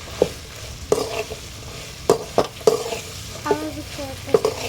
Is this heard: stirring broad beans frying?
yes